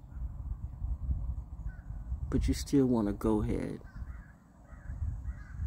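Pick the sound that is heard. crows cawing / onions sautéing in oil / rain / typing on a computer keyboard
crows cawing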